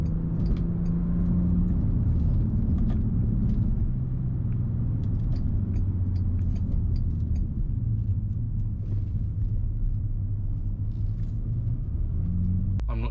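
A Bentley in sport mode cruises along a road, its engine droning low and steady beneath a constant rumble from the tyres and road surface, with no voices throughout.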